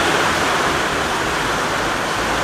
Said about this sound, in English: This rain and wind.